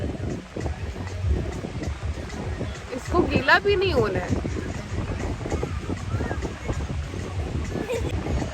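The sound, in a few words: wind blowing and waves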